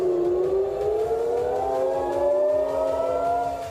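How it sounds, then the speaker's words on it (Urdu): An air raid siren wails over Herzliya in Tel Aviv during a drone attack. The steady rising tone is loud and sustained, with a second siren layered underneath. "شہر سائرن کی آواز سے گونج اٹھا۔"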